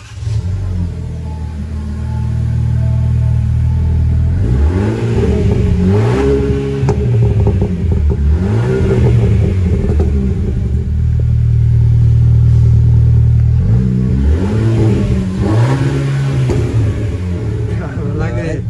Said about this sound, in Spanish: el sonido que tiene